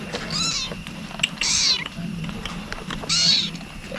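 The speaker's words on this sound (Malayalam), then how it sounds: "അപ്പോൾ ഒരു പൂച്ചക്കുട്ടീനെ മാത്രം കൊണ്ടുപോയിട്ടില്ല. പാവമുണ്ട്, കരയുന്നുണ്ട്." A kitten cries in three distinct high, wavering meows spaced about a second apart, fairly close, over a low background murmur.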